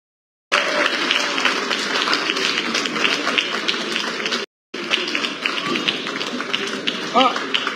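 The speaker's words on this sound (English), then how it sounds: "Can we all have a generous round of applause" An audience at a book launch gives a generous round of applause, sustained crowd clapping that stops briefly and then resumes, with a few voices audible toward the end.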